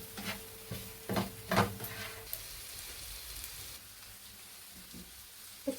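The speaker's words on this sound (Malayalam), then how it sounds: "നന്നായിട്ടൊന്ന് ഇളക്കുക" A spoon scrapes and stirs chilli powder and coriander powder frying with chicken in a pan for a boneless chicken curry, a few distinct scraping strokes over a soft steady sizzle.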